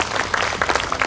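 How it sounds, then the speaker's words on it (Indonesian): A crowd at a Bank Indonesia halal bihalal event attended by the NTT governor claps in a dense, steady burst, brief and fairly loud. "Tepuk tangan buat kita semuanya."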